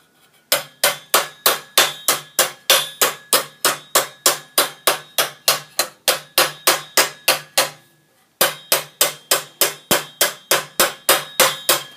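Steel knee armour in 14th-century style hammered on a stake, a long, loud, close run of evenly spaced ringing metallic blows with one short pause partway through.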